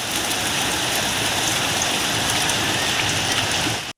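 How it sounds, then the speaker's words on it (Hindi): Steady rain with strong winds in Khairpur, Pakistan, a dense, even hiss of drops on surfaces heard alone and unbroken for about four seconds before stopping abruptly. "खैरपुर में तेज हवाओं के साथ बारिश"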